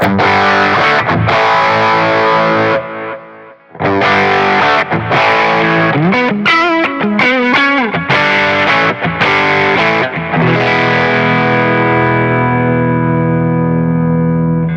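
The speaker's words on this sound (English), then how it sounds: "That's the tube screamer again." Electric guitar through a Tube Screamer overdrive model on a Zoom MS-50G multistomp pedal, playing loud sustained chords and a quick bending lead phrase, with a brief gap before ringing out into a long decaying chord.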